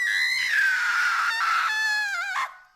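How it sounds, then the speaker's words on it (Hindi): A woman's drawn-out, wavering scream rings out loud and close in the night, a horror-story effect set at an old haunted mansion by a jungle village, cutting off abruptly. "औरत की चीख सुनाई देती थी।"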